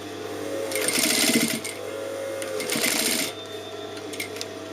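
A sewing machine stitching a hem on an open dress, running in two steady rattling bursts of about a second each, with short pauses and light handling noises after.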